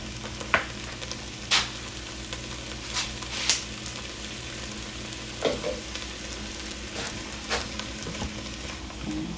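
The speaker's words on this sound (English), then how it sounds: "These are sauteing up real nice." Oxtails saute in a hot pan, a quiet steady sizzle with occasional sharper pops and spatters scattered through, heard close and alone.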